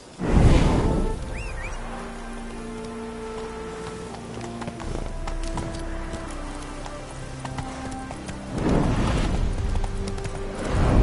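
Horse hooves from The Witcher 3 (Hearts of Stone expansion) thud and clop under sustained musical tones, with louder bursts of movement at the start and again near the end.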